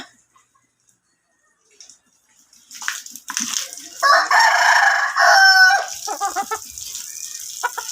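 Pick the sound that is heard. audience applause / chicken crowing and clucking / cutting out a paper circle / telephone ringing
chicken crowing and clucking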